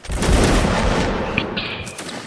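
A massed musket volley in a Napoleonic Wars line battle in Mount and Blade Warband, a loud, dense, crackling roar of many shots firing together that rings out and slowly fades over about two seconds.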